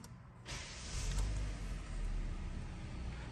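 A 2017 Hyundai Elantra SE starts with a short crank, then its engine rises in a brief rev and settles into a smooth, steady idle, heard close from inside the car.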